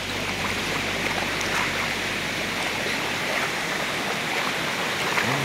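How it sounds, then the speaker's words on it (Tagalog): Water pouring down a small waterfall into a stream, a constant full rushing hiss, close and steady with no voices over it. "May umaagos pa na tawag dyan. Pag pabagsak, falls."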